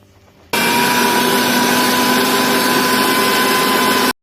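Mixer grinder grinding spinach and coriander leaves for palak paneer, starting abruptly after a brief quiet moment and running as a loud, steady whirring motor drone until it cuts off sharply.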